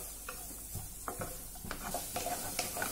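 Whole sweet corn kernels sautéed in a pan over medium gas, with a soft continuous sizzle and a series of scraping, clicking stirs at an irregular pace, close up.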